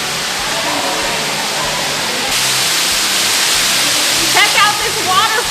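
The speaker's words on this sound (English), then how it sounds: "Check out this waterfall. It's dripping all over me." A steady rushing roar of a waterfall inside Marvel Cave fills the space, constant and close, with faint voices and a few short chirpy sounds near the end.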